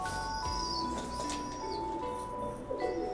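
Two female pigeons in heat, kept in a loft, give soft low coos and faint chirps, close and quiet against a steady background hum.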